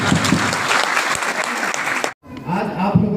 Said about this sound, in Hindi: ताली बजाइए रामेश्वर सर।